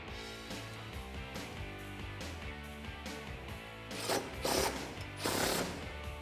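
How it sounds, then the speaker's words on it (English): A socket wrench ratchets in a few short bursts as it tightens bolts holding a Go Rhino RB20 running-board bracket to the pinch weld of a Jeep Wrangler JL 4-door, over a steady background music bed. "Using the 11mm socket and wrench, tighten down the bolts holding the bracket to the pinch weld"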